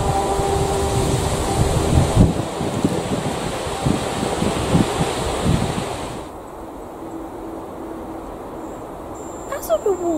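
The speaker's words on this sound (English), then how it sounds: "The wind was blowing." Steady, loud wind rushes and roars throughout, a broad continuous blowing noise that eases somewhat after the first six seconds, with faint voices or other sounds mixed in.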